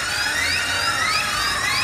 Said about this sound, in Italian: Ah, è qua il trapano.